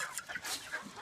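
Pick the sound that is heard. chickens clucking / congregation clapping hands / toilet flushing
chickens clucking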